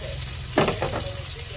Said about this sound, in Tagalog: Lutuin maigi ang kamatis mga kagigil para mas masarap.